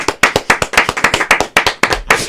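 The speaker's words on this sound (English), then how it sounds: "Let's give a round of applause for Steve Squared." A small group claps hands for Steve Squared on a podcast, brisk, uneven clapping close to the mic, continuous for a couple of seconds with no talking.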